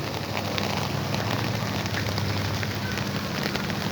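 Steady rain falls on a vegetable garden, a dense, constant hiss of drops landing on leaves and ground, loud and close, with no voices.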